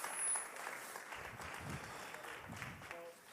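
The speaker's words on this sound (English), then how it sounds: "round of applause, everybody, for Ignacio from the Basque Country" A crowd at the South Summit CDMX Playground Stage applauds a speaker from the Basque Country with soft, fairly distant clapping that carries steadily for about three seconds before tapering off.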